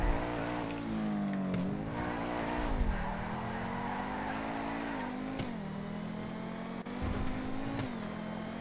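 A race car in a video game revs and accelerates with a steady, strained engine drone that climbs and dips through gear changes, with brief tire-squeal-like sweeps, moderately quiet and alone.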